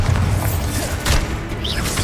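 A Bombarda spell goes off in Hogwarts Legacy amid constant game noise, with a dull booming impact near the middle of the stretch and no talking over it.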